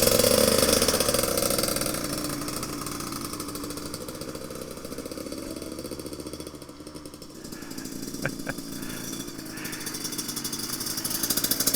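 A motorcycle engine idling with a steady low chug, dipping briefly and then picking up again, with a couple of sharp clicks midway.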